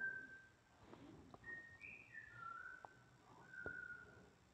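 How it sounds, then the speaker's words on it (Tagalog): A pet parrot whistles indoors in a series of clear, sliding tonal whistles, some rising and some falling, spread across a few seconds over a faint background hiss. "Maingay yung aking alaga, yung ibon ni Sir. Yung parrot."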